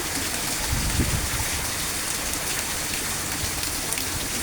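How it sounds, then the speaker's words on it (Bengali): Steady, heavy rain pours down in a dense, even hiss, with drops pattering on a surface nearby and no voices. "বৃষ্টি পড়তেছে বৃষ্টির দিন খিচুড়ি খেতে অনেক মজা হয়"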